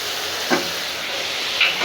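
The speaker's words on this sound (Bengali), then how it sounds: "আমি একটু মুরগির মাংস এই যে ভাজা ভাজা করছি মশলা দিয়ে" A constant close sizzle and hiss of chicken frying with spices in a hot pan, with a faint clink of stirring partway through.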